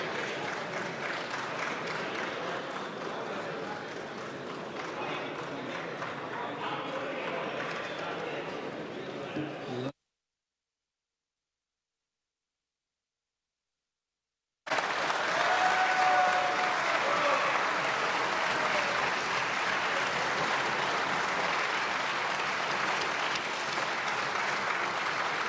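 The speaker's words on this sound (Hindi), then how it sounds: "आपने देखा कि किस तरह से सदन में तालियों की गूंज" A parliament chamber fills with sustained, dense applause during the Speaker's re-election; it cuts out for a few seconds of silence, then resumes even louder and continues steadily.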